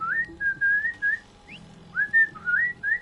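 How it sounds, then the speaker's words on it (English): Melodic whistling from a character in the Assassin's Creed Odyssey video game, a run of short rising and sliding phrases repeated over about three seconds, clear and fairly loud above a low game background. "Stop the fucking whistling."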